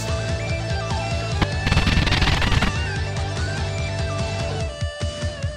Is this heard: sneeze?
no